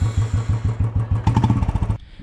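A motorcycle on the road to a temple in Andhra Pradesh chugs with a loud, close, rhythmic engine pulse that quickens briefly before cutting off abruptly.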